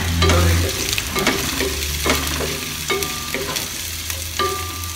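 Garlic and onion sauté together in a hot pan, a steady sizzle broken by repeated scraping stirs of the spatula, close and fairly loud with a low hum underneath.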